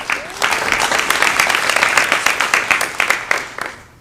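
Guests at a 2022 women's soccer awards banquet clap together in a steady burst of moderate applause. It lasts about four seconds and tails off at the end.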